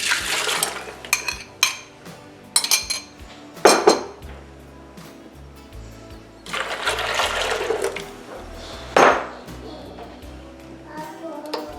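Egg, olive oil and milk poured into a bowl for Tunisian fricassé dough in a bread maker, heard as several clattering bursts of pouring and bowl and utensil clinks spread across the clip, close and fairly loud.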